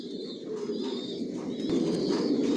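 Racer pigeons coo steadily inside a five-storey breeding loft holding about 170 pairs, a dense, continuous murmur of overlapping calls at close range with no one speaking.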